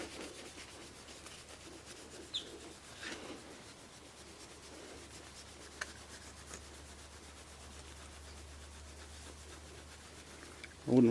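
A hand rubs cutting compound onto motorcycle plastic, producing a faint, steady, soft scrubbing hiss that continues for several seconds, with a brief louder knock at the end.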